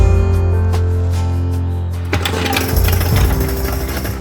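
A nut milk maker running after being switched on, a loud steady mechanical hum with a harsher grinding whir kicking in midway, close and continuous.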